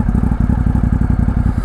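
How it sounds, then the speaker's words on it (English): A Ducati Hypermotard 950 SP with a 939cc V-twin engine, a 2019 model, idles loud and close right after starting, its rapid lumpy firing pulses throbbing steadily throughout. "But let's get it started up and let's check it out, shall we?"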